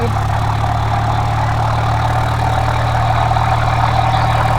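In a flight simulator, an aircraft engine hums at a steady, even drone while being throttled up for taxiing, with no voices over it.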